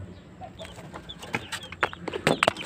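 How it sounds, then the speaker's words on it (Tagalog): A crossbred rooster clucking and calling among other chickens, short close squawks and clucks growing busier toward the end against a faint outdoor background. "Isang tandang."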